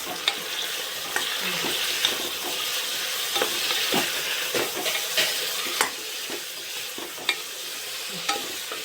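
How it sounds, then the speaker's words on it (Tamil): Tomatoes sautéing in a pan for biryani produce a soft, steady sizzle, punctuated by regular scrapes and taps of a spoon stirring close by. "தக்காளி சேர்த்து நல்லா வதக்கிக்கிறோம்"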